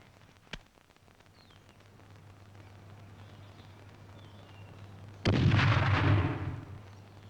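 A Losfeld MDF multipurpose hand grenade bursts in a sharp, heavy blast near the end, following a faint click or pop and a quiet stretch, with the rumble trailing off afterward.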